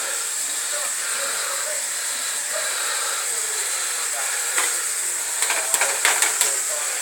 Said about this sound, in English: I've got this cooking here, coming to a boil.